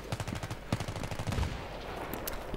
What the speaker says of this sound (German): Ups, das habe ich aus Versehen geschossen.